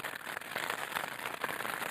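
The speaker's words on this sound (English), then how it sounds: "as you can hear, the rain has started to come down, so I've jumped in my tent." Rain patters steadily on a tent at a wild camp at Raven Crag in the Lake District, a dense soft hiss of drops close by with no voices.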